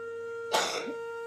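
A single brief throat-clearing cough, fairly close, over a steady background hum.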